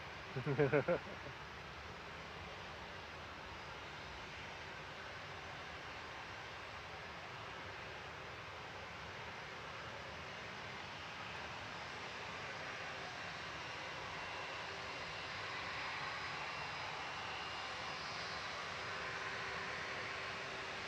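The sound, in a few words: British Airways Airbus A319 jet aircraft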